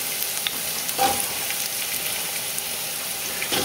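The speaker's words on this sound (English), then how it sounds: "On this side, I got the garlic toasting." Garlic toasting on one side of a pan while carrots and celery sizzle on the other, for an Italian soup; a steady close frying hiss with a few brief crackles and stirs, no talk.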